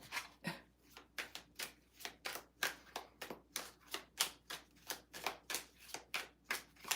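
Tarot cards being shuffled by hand, a rapid regular run of crisp riffling bursts about three per second, close and clear, with no talk.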